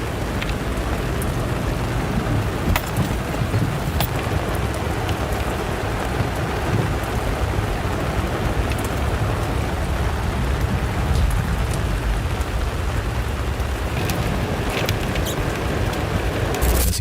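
Heavy rain pours down at a van campsite at night, a dense continuous roar of drops drumming on surfaces with no voices, loud and unbroken throughout, with a few sharper impacts standing out.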